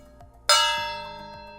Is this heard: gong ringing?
yes